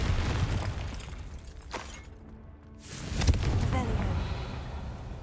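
A Confringo blasting spell goes off in Hogwarts Legacy, a loud explosive burst with a rumbling tail, followed by a second blast after a short lull.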